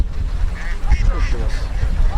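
Ducks on a Bengali duck farm with about 1,900 birds quack in scattered bursts over a steady low rumble, with voices talking in the background.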